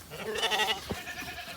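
Sheep on a small farm bleat close by, one drawn-out call followed by a shorter, fainter bleat, with no one talking.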